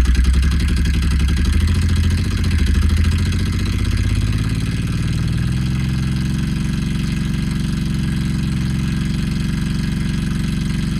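A three-cylinder radial engine motorcycle running close by, a loud uneven clattering chug that throbs steadily, with the pitch settling and smoothing a little partway through, no voices.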